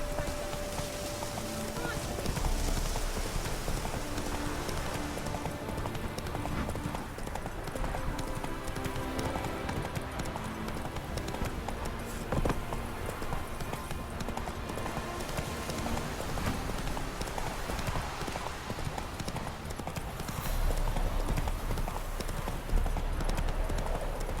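Roach, the horse in The Witcher 3, trots along with steady rhythmic hoof clip-clops, loud and close throughout, under bits of character speech.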